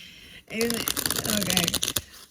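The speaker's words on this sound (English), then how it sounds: "shuffling is always the fun part" A tarot card deck being shuffled by hand at close range, a brief pause followed by a dense burst of riffling, flapping card sounds with sharp clicks, ending in a firm snap.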